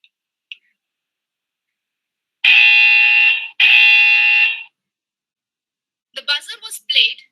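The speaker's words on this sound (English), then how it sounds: "The buzzer was played to alert the driver and wake him up since his eyes were shut." A drowsiness-alert buzzer sounds for a driver whose eyes have shut, giving two loud sustained tones of about a second each, back to back, followed by a short burst of speech near the end.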